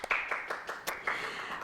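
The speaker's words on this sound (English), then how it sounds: "Give her another round of applause." An audience applauds a singer, a short burst of scattered clapping with several distinct hand claps, moderately close and fairly quiet, with no talk over it.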